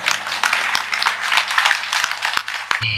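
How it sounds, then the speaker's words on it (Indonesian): Audience applause at a gathering: steady, fairly loud clapping from a crowd continues throughout, with a low hum beneath it. "Tepuk tangan buat kita semua."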